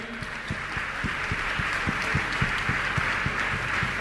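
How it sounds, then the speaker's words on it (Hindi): Audience applause at a Jain community gathering, a dense steady patter of many hands with faint rhythmic thumps underneath, fairly quiet and continuous throughout. "तालियां बहुत कम बज रही हैं।"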